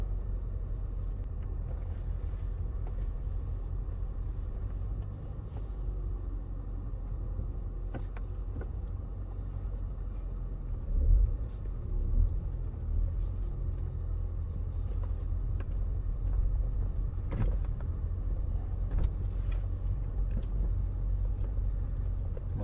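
Steady low interior rumble inside a BMW M5 E39 rolling over a bumpy road, with a few soft thumps from the suspension midway and no talking.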